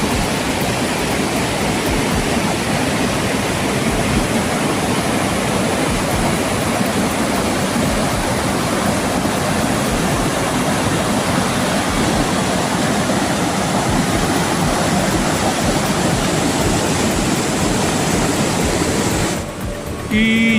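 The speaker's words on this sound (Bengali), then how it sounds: "ঝর্ণাটা নামছে, আস্তে আস্তে এসে এইখান থেকে বেরোচ্ছে" A waterfall pours down a hillside at Zuluk on the Silk Route in Sikkim, a steady, loud broadband rush of falling water that holds constant for about twenty seconds, close by and with no voices over it.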